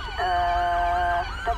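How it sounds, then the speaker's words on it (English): A police car siren in the video game LSPDFR wails close by, a steady high tone with quick warbling sweeps at each end, loud and alone over a low rumble. "Whose light siren is on?"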